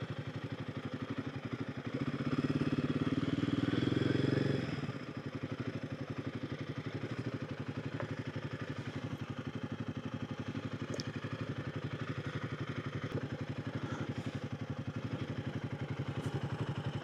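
Motorcycles out on the road during Arizona Bike Week in April, a faint, distant engine rumble with one louder pass swelling briefly early on, then a low steady background hum.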